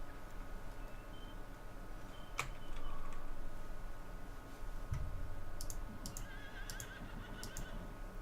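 A horse in the farming game Hof Bergmann gives a short, faint neigh over a quiet background with light clicking and ticking, and no one speaks.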